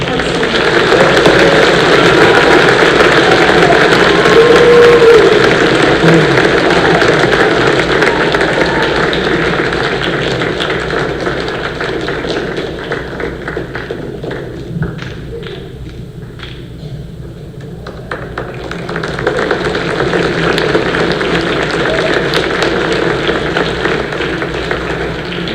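An audience at a school band concert applauds art students, a steady broadband clapping wash that holds for around fifteen seconds, thins briefly, then swells again.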